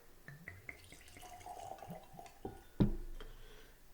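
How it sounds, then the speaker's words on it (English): Whiskey pouring from a bottle with a black synthetic cork into a glass, a run of small liquid drips and gurgles ending in a louder splash near the end, close and fairly quiet. "Let's give this a pour."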